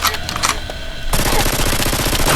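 A toy gun fires in a rapid, dense burst, loud and close, with a sharp change partway through into continuous rattling bursts.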